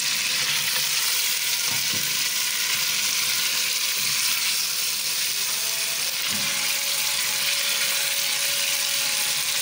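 Masala for a chicken and potato curry fries in ghee, a dense, steady hiss of sizzling that runs without a break, with a couple of faint stirring knocks.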